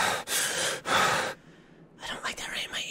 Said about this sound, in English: Why are you breathing so heavily?